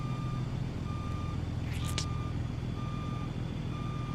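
A truck in a trucking simulator game backs up, its reversing alarm beeping in a steady, evenly spaced pattern over a constant low engine rumble, with a brief whooshing squeal near the middle.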